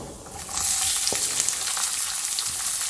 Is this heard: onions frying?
yes